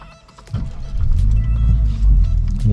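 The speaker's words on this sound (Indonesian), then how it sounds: "Bapak tinggal injak rem sama pencet engine start aja" A Toyota Rush GR Sport engine starts by push button: a brief starter crank after a quiet moment, then the engine catches and settles into a steady, close idle rumble.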